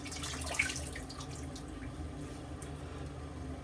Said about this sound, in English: I'm going to rinse it off here.